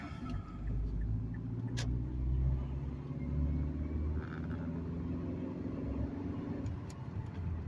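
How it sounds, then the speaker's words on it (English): Manual-transmission car accelerating on the road, a steady close engine rumble with tone shifting as revs climb, a brief dip around a gear change, and no one talking. "There, I shifted into third gear when I hit 30 miles an hour"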